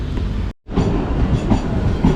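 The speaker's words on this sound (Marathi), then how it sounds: "आम्ही चाललो आता टिटवाल्याने ट्रेनने चाललो" A train rumbles steadily along the tracks with a rattling clatter, broken by a brief moment of silence before the noise resumes.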